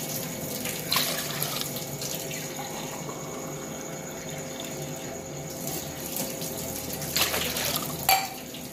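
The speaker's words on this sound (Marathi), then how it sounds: "हे 4 ग्लास पाणी आपण याच्यामध्ये टाकलं आहे" Four glasses of water pour steadily into a cooking pot for rice, a continuous splashing stream under kitchen background noise, with a few small clinks near the end.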